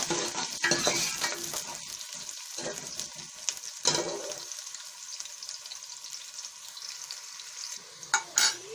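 Onions browning in hot oil sizzle and crackle steadily, with occasional stirring scrapes and clatters, fairly close and loud, no talking.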